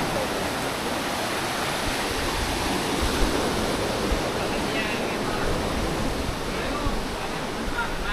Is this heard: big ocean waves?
yes